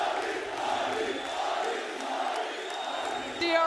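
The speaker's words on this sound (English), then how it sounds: "The crowd absolutely behind this man. They can feel it. They are cheering his name." An esports arena crowd at a Valorant championship match cheers and roars continuously, a broad, sustained mass of voices with a brief louder tone near the end.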